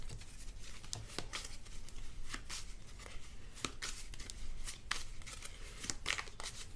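Cards from the Wyrmspan board game are shuffled by hand at a table, a quick run of crisp riffling snaps and papery flutters repeated in short bursts, close and moderately quiet.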